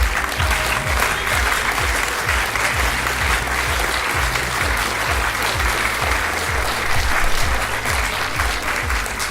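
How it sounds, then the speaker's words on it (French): A theatre audience applauds continuously, a loud, dense wash of clapping that holds steady throughout, with a regular low thumping beat running underneath. "Vous allez pouvoir applaudir Charlotte et Claude."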